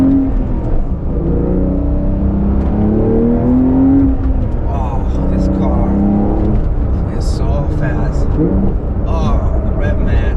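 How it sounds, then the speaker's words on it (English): A dream car's engine blips for a rev-matched downshift while driving, a brief rising rev heard close inside the cabin over steady road and engine drone, with a voice talking over it. "Oh, the rev match. You hear that rev match"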